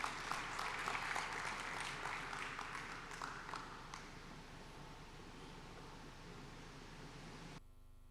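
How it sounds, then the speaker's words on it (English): An audience at a digital market summit in Tanzania applauds as a speaker walks on stage: steady, dense clapping that starts strong and slowly thins over several seconds before cutting off. "A round of applause as she comes."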